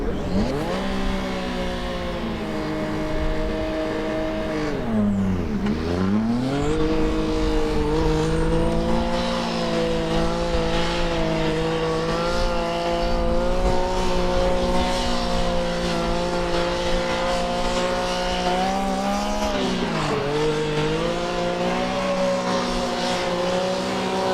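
An electric Formula Student race car, TU Tallinn's number 124, laps the skid pad at Formula Student Germany 2022, its motor whining in rising and falling sweeps as it circles, with tire squeal and no talk over it.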